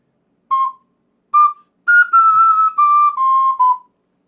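An ocarina played poorly, a series of whistle-like notes: two short toots, then a longer run of wavering, slightly unsteady held tones that shift in pitch, clear and close with no voices.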